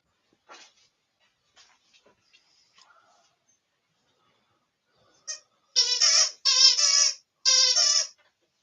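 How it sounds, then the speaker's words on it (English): A dog plays with a squeaky toy in the background, sending a few faint squeaks and then a run of loud, high, rapid squeaks in quick bursts, with no one talking. "If you hear him squeaking, it's my dog in the background playing with his squeaky toys."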